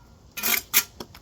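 A retaining wall block tapped into place, three short knocks in quick succession followed by a fainter fourth, close and alone.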